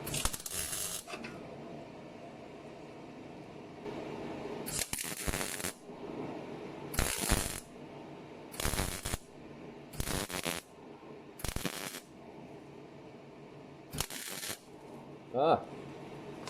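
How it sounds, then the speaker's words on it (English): A welder tack-welds metal repair panels into a rusty Lexus IS200 body, giving about eight short, sharp crackling bursts spaced a second or two apart over a quiet background hum. "So grab my welder, Chris, and a quick tack there, and a quick tack there."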